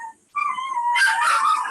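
Dogs whine and cry in high, wavering, wailing tones, a brief close cry that breaks off and then swells into a longer strained whimpering howl.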